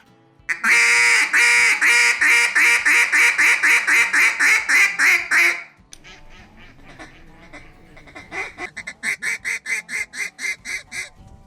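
A duck call blown in a long call: a loud run of about a dozen descending quacking notes, a short pause, then a second quieter series of rhythmic quacks.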